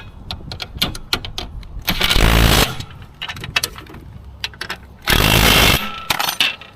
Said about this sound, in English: I am retightening 4 bolts that hold in motor